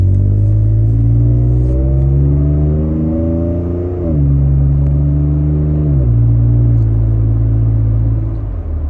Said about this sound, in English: And here's an acceleration from the inside.